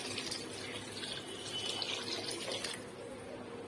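Water pours into a cooking pot for semiya, a continuous splashing trickle at moderate level with a brief louder gush, close by and alone without talk.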